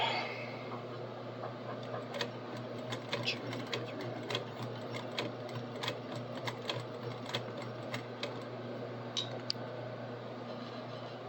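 A sewing machine stitches belt loops onto a garment, running as a steady mechanical hum with rapid clicking needle strokes and brief sharper ticks, close and continuous.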